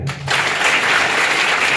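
Audience at a legal awareness programme inauguration bursts into applause, a loud, dense, sustained wash of many clapping hands starting abruptly after a brief moment and continuing steadily.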